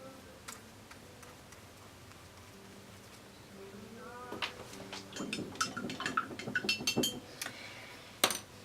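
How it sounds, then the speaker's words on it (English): Watercolor half pans clicking into a palette: a run of small, sharp plastic clicks and taps close by, scattered irregularly over a few seconds, with one louder click near the end, over a soft musical background. "some of my half pans are a little bit smaller and they don't click in as good."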